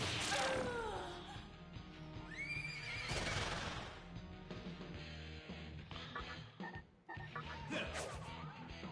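Horse neighing in the video game SMT Nocturne, several loud whinnies in succession with clip-clop hooves and impact crashes of combat, filling the whole stretch.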